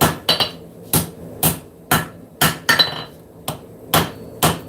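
A hammer strikes knife steel on an anvil during forging, with about ten sharp metallic blows in a steady rhythm, close and loud, each ringing briefly before the next.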